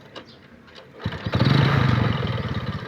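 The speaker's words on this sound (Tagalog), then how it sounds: "So ngayon paanda na natin kung okay ba" A Rusi motorcycle engine, recently fixed with a new spark plug, cleaned air filter and rust-cleared tank, cranks briefly then fires and settles into a loud, close, throbbing idle.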